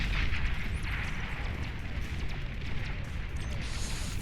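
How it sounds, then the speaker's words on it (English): A fusion reactor blowing up in the strategy game Beyond All Reason, a loud booming blast rolling into a long, rumbling roar that slowly fades. "that fusion is definitely going to explode"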